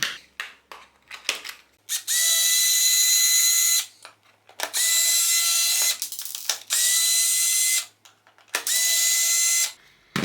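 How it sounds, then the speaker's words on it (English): Loud, close whine of a power screwdriver backing screws out of a Parkside electronic watering timer, four sustained bursts of a couple of seconds each, separated by clicks and rattles of handling. "We need to remove 4 screws."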